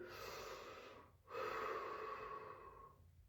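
Two long, deep breaths are drawn in during a slow waist-bending stretch, each a close, soft, airy inhalation lasting over a second, with a brief pause between them.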